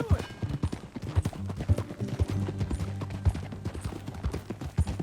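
Horse hooves clip-clop in the Red Dead Redemption 2 video game: a rhythmic, steady trot of close, clear hoofbeats carries throughout, with some low background rumble.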